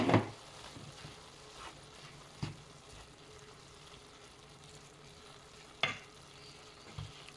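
Sliced olives go into cooked kefta in a pan and get stirred, giving faint, soft scraping and a few sharp clacks of the utensil over a quiet background sizzle, with no voices.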